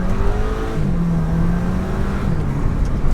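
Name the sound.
VW GTI with bigger turbo accelerating hard in first gear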